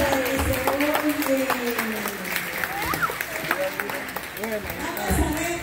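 Guests at a baby shower clap for a man, lively scattered applause mixed with cheering and voices talking over it, the sound swelling again near the end.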